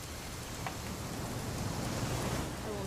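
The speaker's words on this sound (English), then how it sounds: "It's gonna rain the whole weekend," Rain falling in the video game What Remains of Edith Finch, a constant dense hiss of rainfall with a soft low wash underneath, steady throughout and unaccompanied by talk.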